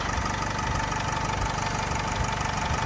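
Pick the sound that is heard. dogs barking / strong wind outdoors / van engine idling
van engine idling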